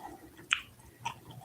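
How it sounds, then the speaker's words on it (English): Gum being chewed right up against a microphone, with a couple of soft, wet smacks standing out over quiet background and no talking. "Are y'all picking up the gum chewing?"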